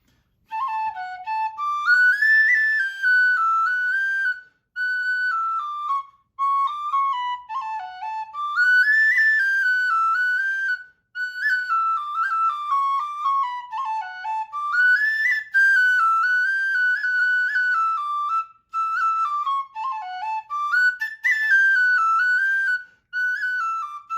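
A lively Irish tin whistle tune, "Girls of Banbridge", played solo with quick ornamented runs and short breaths between phrases, clear and close.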